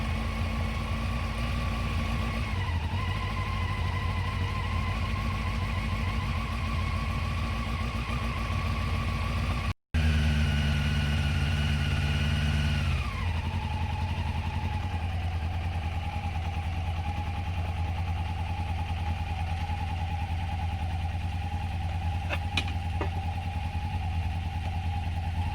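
A motorcycle engine idles steadily up close after a no-choke start, with a brief cut midway. The idle then continues with a slight drop in pitch.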